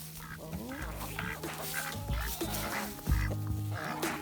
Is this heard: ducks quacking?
yes